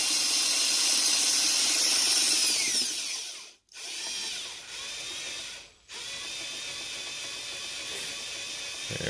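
A power drill spins an HVAC compressor shaft near full speed, a loud steady high-pitched whine and rattle that cuts out abruptly twice, briefly dropping to silence before resuming.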